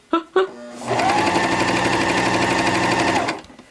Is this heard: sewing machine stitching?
yes